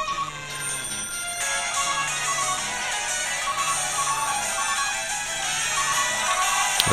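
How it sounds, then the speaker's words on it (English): Electronic phone ringtone in the Wii video game Calling, a loud, steady repeating melodic tone pattern that plays continuously with no voices over it. "What a shitty ringtone."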